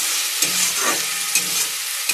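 Onion and tomato fry in oil for chicken kosha, a steady close sizzle broken by a few scraping stirs of a spatula, with no voices.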